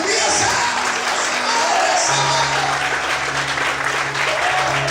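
A church congregation applauds loudly and continuously while sustained tones play underneath.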